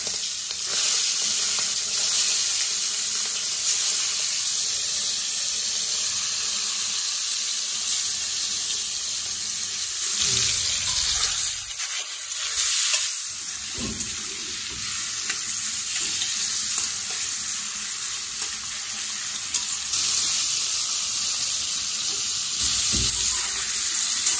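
Shrimp frying in hot oil in a wok (kadai) for a Bengali brinjal-and-prawn dish, giving a steady, loud, close sizzle and crackle that runs throughout with only brief dips.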